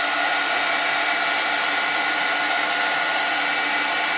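A heat tool setting ink on a crafted gift card holder blows a steady, loud, continuous whooshing hiss, constant throughout with no talking.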